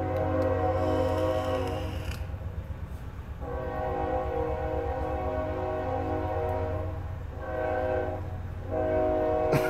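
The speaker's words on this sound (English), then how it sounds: "You hear that train? I know you hear that loud sucker." A loud freight train passes close by near the Mississippi River, its horn sounding in long blasts over the steady rumble and rattle of rolling cars. No one speaks.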